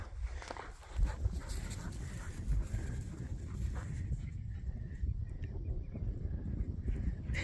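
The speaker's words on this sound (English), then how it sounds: "Watch the dogs play." Farm dogs romp and wrestle outdoors on a calm evening, with steady rustling, scuffling movement and soft panting close by, low-level and continuous throughout with no clear barks.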